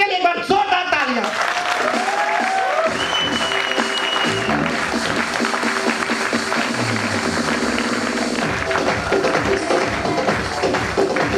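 A seminar audience claps loudly and steadily for a system designer, the applause running continuously beneath loud amplified music with sweeping tones and beats, while a voice speaks over part of it.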